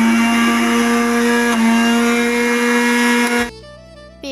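Electric blender grinding fried onion and cashews into a paste, a loud steady high-pitched motor whine that runs for about three and a half seconds before cutting off and spinning down.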